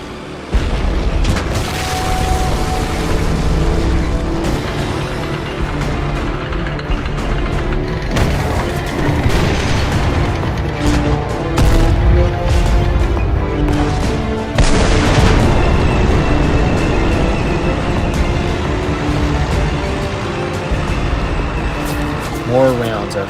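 Tank cannons boom repeatedly in the game WOT Blitz, heavy shots landing amid rumbling engines and impacts, with a narrator talking over much of the action.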